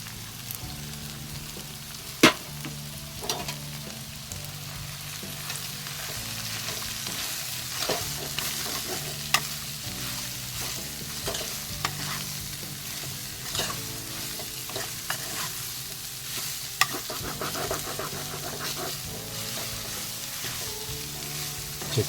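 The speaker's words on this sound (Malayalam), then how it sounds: "അതിലേക്ക് അരിഞ്ഞു വെച്ചിരിക്കുന്ന സവാള ചേർത്ത് കൊടുക്കുകയാണ്. സവാള നന്നായിട്ട് വഴറ്റി എടുക്കേണ്ടതാണ്." Chopped onions frying and being sautéed in a pan for a country chicken roast, a constant oily sizzle broken by spoon scrapes and occasional sharp clinks, close and steady with no voices.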